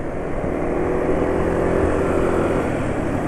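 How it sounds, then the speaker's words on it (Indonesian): A rough-running diesel engine drones continuously with a low, rumbling, slightly uneven tone, with no voices. "tapi anehnya suara mesin saat jalan ini cukup kasar"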